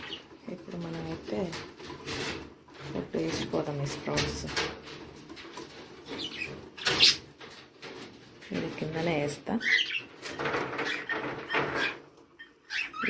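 Pigeons gathering at a feeding spot, with soft cooing and wing flutters and clatter close by, mixed with a person talking throughout.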